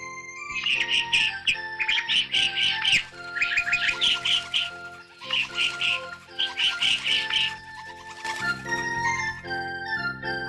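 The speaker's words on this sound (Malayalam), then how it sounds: "ഒരു തത്ത അവിടെ എത്തി." A parrot in an animated children's song squawks and chirps in bright, repeated bursts over soft sustained background music.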